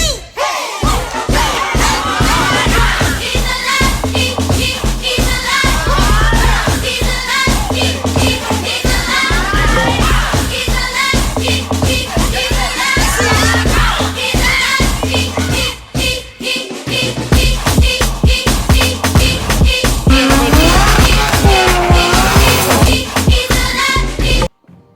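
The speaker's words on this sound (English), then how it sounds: "went to Ireland to watch some drifting" Loud, dense roar from a crowd at a drifting event in Ireland, with shouting and cheering over steady engine and tyre noise throughout, a brief dip midway before the din resumes.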